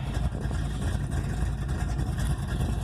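A 1986 Chevrolet Monte Carlo SS with a 383 engine idling after a cold start, its exhaust giving a steady, loud low rumble with a slightly uneven pulse and no voices.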